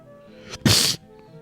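A single sharp sneeze, preceded by a quick intake, bursts out loud and close, then fades into quiet room noise.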